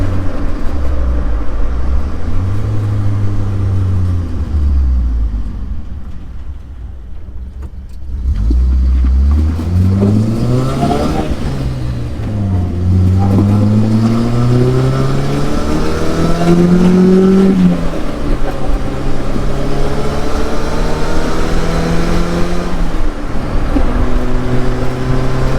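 A turbocharged Geo Tracker engine revs loud and close, its pitch climbing and falling through repeated throttle sweeps after a brief dip, while the turbo builds no boost and the wastegate dumps it.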